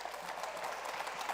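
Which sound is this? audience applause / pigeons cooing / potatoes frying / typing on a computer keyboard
audience applause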